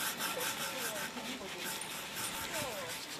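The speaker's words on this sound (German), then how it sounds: "Auch der Jugendclub schrubbt mit" A youth club scrubs a surface in a village, with steady continuous rubbing and brushing strokes, moderately close, and occasional faint voices underneath.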